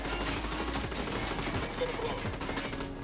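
An ACR rifle in Ghost Recon Wildlands fires a full magazine in rapid automatic bursts, dense continuous gunfire with mechanical clatter that stays loud throughout.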